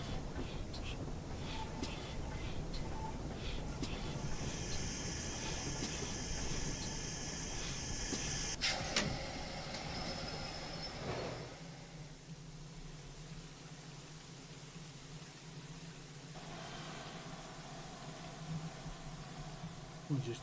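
GWR no. 2999 "Lady of Legend" steam locomotive in a train simulator on the Penwyth Valley Railway, a steady hissing, rumbling engine bed with shifting tonal whines and a sudden change near the middle, running continuously and fairly loud.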